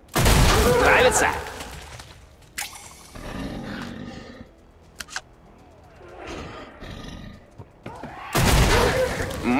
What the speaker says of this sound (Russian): Мощный помповый ствол.